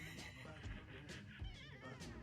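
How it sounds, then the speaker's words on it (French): A cat meows several times in short, distinct calls at close range, with faint background noise and brief rustles between the cries. "c'est quoi ces miaulements?"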